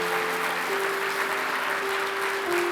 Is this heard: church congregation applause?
yes